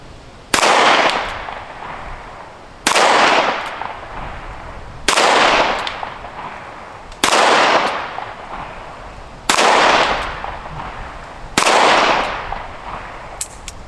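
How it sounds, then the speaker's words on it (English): Six sharp gunshots fired at a steady pace while test firing to adjust sights, each a loud crack with a short decaying echo, spaced about two seconds apart outdoors. "I'm shooting kind of fast there"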